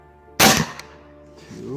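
A shotgun fires a single slug during a test session, one sharp loud blast with a short decaying tail, followed by quiet ambience.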